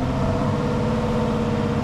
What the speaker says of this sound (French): il y a une Porsche qui fait du bruit